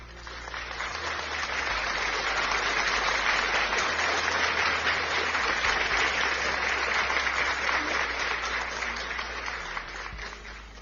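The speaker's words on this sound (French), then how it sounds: "Acclamons ma soeur, mon frère, pour le Seigneur Jésus-Christ de Nazareth" Steady, sustained applause from a congregation at a Christian prayer gathering, a dense wash of clapping that swells in and holds evenly for several seconds before easing slightly at the end.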